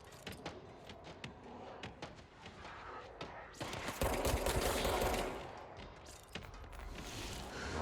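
Shotgun blasts and gunfire in the video game Control, a series of sharp cracks followed by a loud, sustained burst of firing with debris, mixed with game noise and a little talk.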